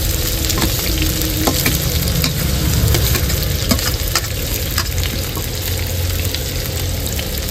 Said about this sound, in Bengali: পেঁয়াজ দেওয়ার পর হালকা করে নাড়িয়ে নেব।